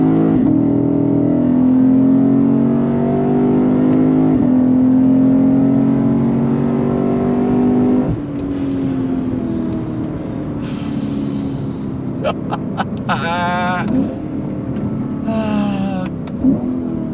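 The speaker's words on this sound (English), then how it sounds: "the sound of that V8, I mean, it sounds way better than any BMW M3 that's brand new" A Lexus IS 500 F V8 engine revs and accelerates loudly, its rising pitch climbing through gears with shift breaks, then easing into lower, lighter revving with brief blips.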